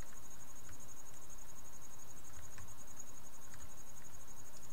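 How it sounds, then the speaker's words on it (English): Crickets chirp indoors right beside a computer, a steady high trill with soft pulsing repeats, faint and continuous with a low background hum and no voices. "I have crickets right next to my computer"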